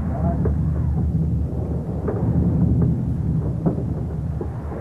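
A thunderstorm heard in a 1931 seafaring film makes a continuous low, heavy rumble with wind-like noise, while muffled voices are faintly heard underneath.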